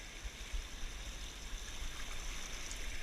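A mountain stream flows steadily with a continuous broadband rush of water, close and even throughout, with no voices.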